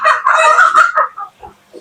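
A Brahma chicken crows loudly and close, a harmonic crow that trails off into a few softer clucks at the end.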